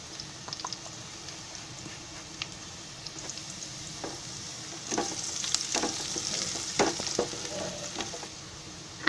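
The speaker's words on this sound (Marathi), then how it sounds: "कांदा असा चांगला लाल असं परतून घ्यायचा" Onion frying in a pan with a pinch of asafoetida gives a soft, steady sizzle close by that grows louder and busier midway, with occasional light stirring scrapes and no talking.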